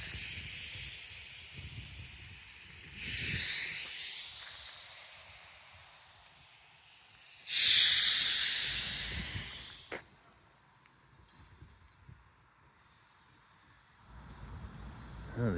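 A steam locomotive at the Stephenson Steam Railway releases several loud bursts of hissing steam between quieter stretches, with the strongest blast partway through and a low mechanical rumble beneath, no talking.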